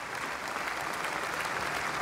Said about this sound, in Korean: 우리 국회의원들은 지금 박수로 기립해서 맞아주고 있습니다.